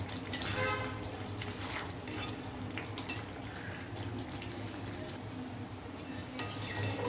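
Rava upma being stirred in a pan over a medium flame: repeated clinks and scrapes of a spoon against the metal pan over a low sizzle, close and fairly quiet, in an irregular rhythm.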